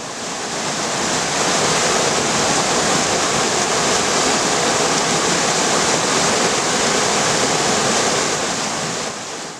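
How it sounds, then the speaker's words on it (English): A raging torrent of the River Ffyddion near Dyserth, Wales, swollen after three days of heavy rain, roars in a dense, steady rush of churning water that stays loud and continuous throughout with no voices. "What I have found is a raging torrent."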